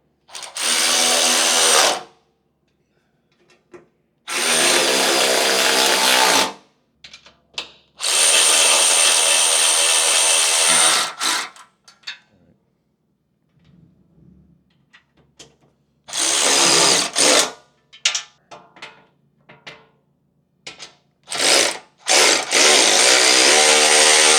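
An impact power tool tightens bolts on a 3/16-inch steel engine skid plate under a second-gen Toyota Sequoia, loud whirring bursts of a few seconds each separated by pauses and shorter rattling blips.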